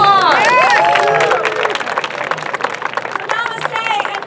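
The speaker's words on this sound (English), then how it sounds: "I give all of you a huge round of applause." A crowd applauds loudly with steady clapping and some cheering, the ovation continuing throughout with whoops rising above it.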